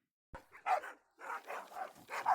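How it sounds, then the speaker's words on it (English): Dogs barking in the video game Death Drive, a few loud close barks in quick bursts separated by short pauses, with no talking over them. "Watch the dogs get closer"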